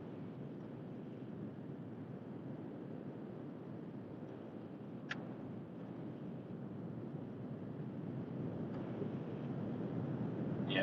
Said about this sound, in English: this wind done picked up a little bit